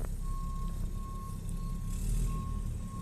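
Garbage truck reversing, its backup alarm sounding a steady high tone over a rumbling engine that surges briefly near the end, with no talking.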